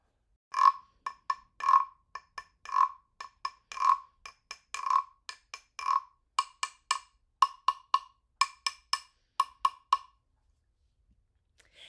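A wooden frog rasp is scraped in a steady series of short croaking clicks, about two dozen strokes, close and clear, ending in silence.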